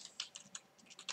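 Keys click on a computer keyboard in a quick, uneven burst of soft taps, faint and close, with no talk.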